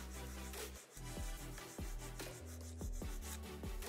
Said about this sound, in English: Place the file underneath the nail, file straight out, and then slightly taper in.